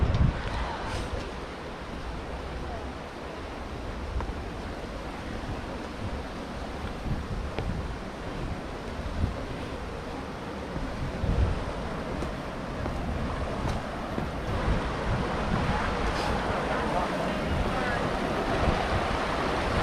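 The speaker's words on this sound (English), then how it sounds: "Water flowing over here." Water rushing steadily over a rocky waterfall in a canyon nature reserve, a constant broadband roar heard close by with wind buffeting the microphone throughout.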